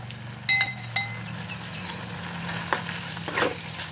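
Vegetable curry with crushed peanuts being stirred in a pan, a spoon clinking and scraping against the metal over a low sizzle, several sharp knocks spread through, no voices.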